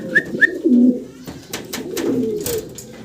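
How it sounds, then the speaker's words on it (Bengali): A Modena pigeon cooing close by, two short rising notes followed by low throaty coos, loud and alone with faint background rustle. "সিঙ্গেল এক পিস মডার্না কবুতর দেখাচ্ছি"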